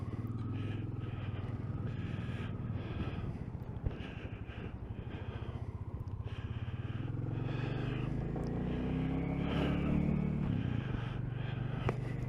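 A Royal Enfield Classic 350 single-cylinder motorcycle engine burbles steadily while riding, a continuous close low thump with a slight rise in revs near the end.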